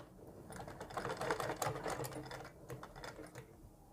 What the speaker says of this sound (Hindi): जो अब हम सिलाई चलाएंगे इन प्लेट्सों के बिल्कुल बीच में होनी चाहिए।